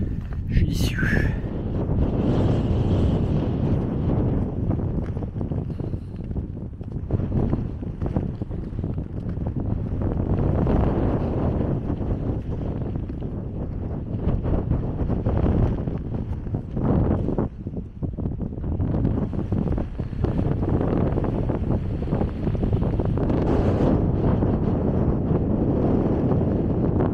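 Mountain wind in Rondane, Norway, a continuous loud rumbling buffet across the microphone that rises and falls for the whole stretch, with a brief high chirp near the start.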